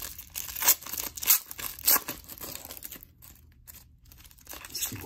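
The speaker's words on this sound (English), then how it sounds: "Let's rip into pack two here." Foil trading card pack being ripped open by hand, a run of crinkling, tearing bursts up close, then a quieter stretch and a final crackle, no talking.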